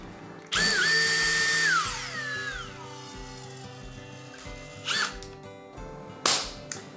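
A cordless power drill backs screws out of a QiDi Plus 4 3D printer, a loud close whine that spins up, holds, then winds down, followed by two shorter bursts of the motor.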